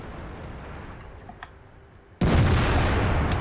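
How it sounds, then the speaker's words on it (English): A loud in-game tank cannon shot from an MX-50B with a 120mm gun in World of Tanks: a sudden, broad blast that cuts in after a quieter rumble and sustains as a heavy roar. "MX-50B putting in some very effective shots there."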